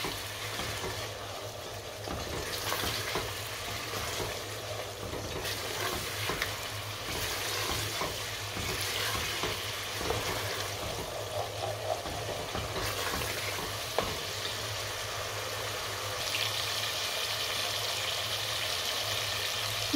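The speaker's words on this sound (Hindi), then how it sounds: "मसाला हमारा अच्छे से भुन गया है" Masala for degi chana pulao sizzles and fries in a pot while being stirred, a soft, continuous crackling hiss with scraping bursts from the spoon, fairly quiet and close.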